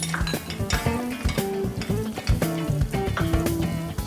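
Steady close sizzling of semolina in hot olive oil with a constant crackle, plus scraping and stirring noises against the pot, no talking.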